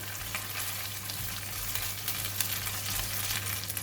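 Red chili stir-fried in red curry paste, a continuous bright sizzle with faint crackles and stirring, alone and steady.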